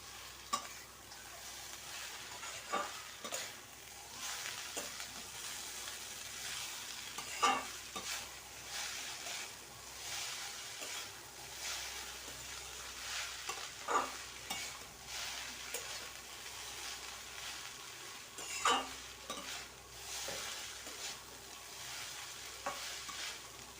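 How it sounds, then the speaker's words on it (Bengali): Chowmein noodles being stirred and tossed in a pan with fried onions and chopped green chilli, a steady close frying sizzle broken by repeated scraping and clacking strokes of the spatula, with no talking. "পেঁয়াজকে ভেজে নিয়েছি এবার চাউমিনটাকে দিয়ে দেবো এবার ভালো করে নেড়ে নেবো"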